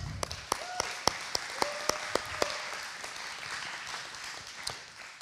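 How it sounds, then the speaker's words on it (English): An audience at a Torah study gathering claps as the Rebbetzin enters, heard as a scattered run of sharp, separate claps that thin out, with soft room murmur underneath. "Everybody was clapping for Rebbetzin walking in the room."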